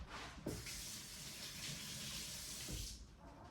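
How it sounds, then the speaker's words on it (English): A spoon is rinsed under a running kitchen tap, a steady close rush of water lasting a few seconds with a couple of soft knocks as the spoon moves through the stream. "Let me rinse this spoon off."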